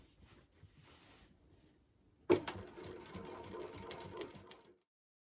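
Sewing machine stitching the final seam around a personalised fabric wall organiser, starting with a sharp clack and then running in a steady fast whir for about two and a half seconds before stopping, close and quiet.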